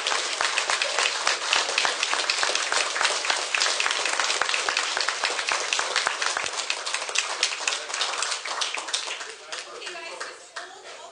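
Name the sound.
applause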